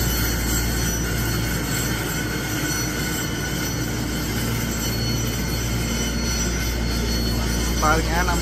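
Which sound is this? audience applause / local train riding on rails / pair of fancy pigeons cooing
local train riding on rails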